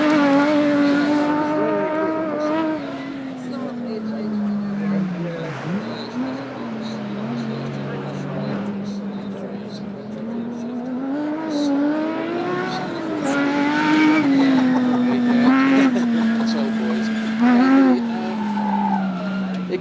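A race car at the Goodwood Festival of Speed hill climb screams through its gears and squeals its tyres through corners, a loud, sustained engine note rising and falling, with a commentator talking over it.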